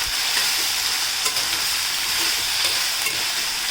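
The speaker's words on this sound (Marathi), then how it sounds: "सर्व साहित्य आपण चांगलं परतवून घेऊयात मस्तपैकी असं लालसर होईपर्यंत" Egg masala ingredients, including chopped coriander, sautéing in a hot pan with a steady, close sizzle and occasional stirring scrapes, no voices over it.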